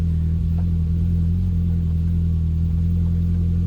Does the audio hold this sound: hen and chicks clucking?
no